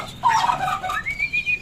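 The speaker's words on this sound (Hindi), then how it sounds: "ये सही बोल रहा है, बिल्कुल आवाज़ सही निकाल रहा है जैसे टर्की बर्ड की निकलती है" A pet turkey gobbles in one rising, warbling call lasting over a second, close and clear with no voices over it.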